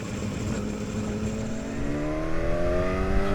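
A motorcycle engine revs up through the mid-range with a quick shifter, its pitch rising smoothly and growing a little louder as it pulls on a road outside Bangkok.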